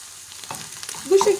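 Cincile mushrooms and onions fry and caramelize in a pan, giving a short, soft sizzle that swells slightly with a brief tonal sound at the end.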